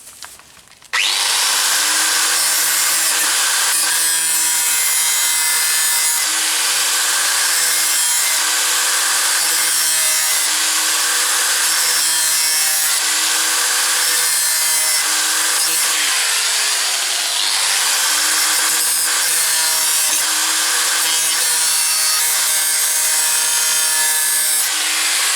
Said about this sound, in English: I may have to just tickle that with the grinder just a second